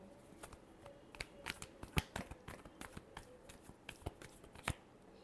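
Tarot cards are shuffled by hand in a quick series of sharp, irregular riffling clicks and snaps, close and faint, with no talking.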